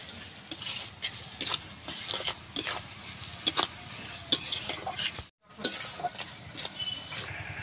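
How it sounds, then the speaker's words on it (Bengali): Onions fry in oil until browned for a homemade chicken biryani. A quiet hiss of sizzling runs under repeated scraping and clinking of a spoon stirring in the pan, with one brief gap. "পেঁয়াজটা লাল লাল করে ভেজে নেব"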